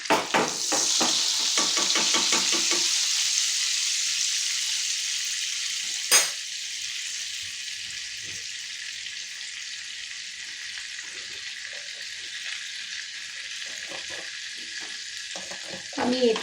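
Butter melting in a pan for Mughlai paneer sizzles and spits steadily for the whole stretch, with a few scraping stirs at the start and a sharp clink around midway, no voices.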